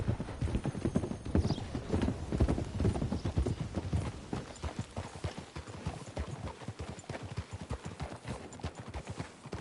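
Rapid clip-clop of horse hooves pounds steadily throughout, with a horse's whinny rising near the start, from the video game Red Dead Redemption 2; loud and close, no talking.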